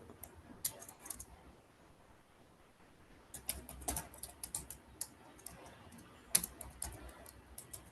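Fingers type on a computer keyboard in quick, uneven bursts of light clicking keystrokes, with a sparse start and a denser run of taps later, heard close and fairly quiet.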